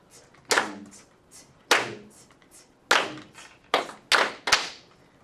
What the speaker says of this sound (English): keep doing that as you clap